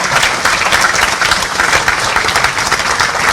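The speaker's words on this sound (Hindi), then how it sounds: "जोरदार तालियों से" A large audience bursts into loud, dense applause at a Raipur book launch of 'Main Chhattisgarh Bolta Hoon' by the late Padma Shri Dr. Surendra Dubey on his birth anniversary, steady and close throughout.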